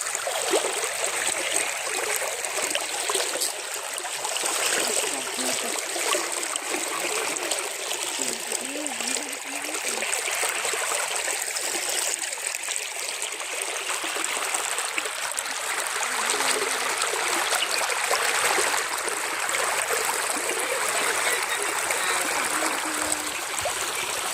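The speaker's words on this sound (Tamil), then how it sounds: "இங்கே இங்கே வந்து பார்த்திங்கன்னா ஒரு குட்டி ஓடை மாதிரி இருக்குது." A small stream at a hill campsite flows and trickles steadily and close by, a continuous broadband wash of water with light splashes throughout.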